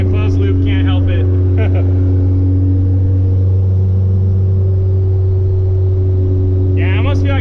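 Turbocharged Honda D15 Civic engine running on its first drive with a Haltech 550 Elite, giving a steady, loud low drone and rumble throughout, with people talking briefly at the start and end.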